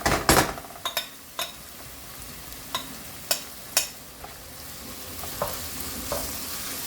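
Spices sizzling and frying in a hot pan for a mixed vegetable bhaji, a steady crackling hiss broken by sharp stirring clinks and scrapes of a utensil against the pan, close and fairly loud with no talking.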